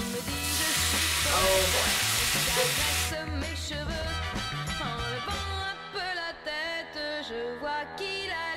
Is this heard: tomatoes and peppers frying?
yes